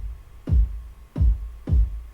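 Synthesized kick drum built from a triangle wave with a pitch envelope, three deep booming hits that sweep down in pitch, evenly spaced and dry, with nothing else playing.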